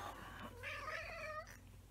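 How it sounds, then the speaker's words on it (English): A cat gives one drawn-out, wavering meow lasting about a second, fairly quiet and close, with no talking. "This is the new cat."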